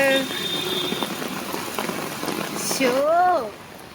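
Rain patters steadily in the background while a voice speaks over it, followed by a rising, wavering vocal sound near the end.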